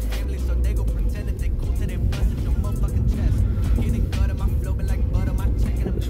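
A rescued Honda Prelude V, recently revived after sitting idle for months, pulls away with a loud, steady engine rumble and road noise close to the microphone.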